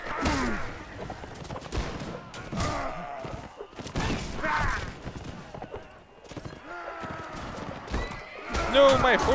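Horses whinny repeatedly amid a chaotic Mount & Blade Warband cavalry battle against Prussians, with thuds, clattering hooves and gunfire around them while someone shouts orders over the fighting.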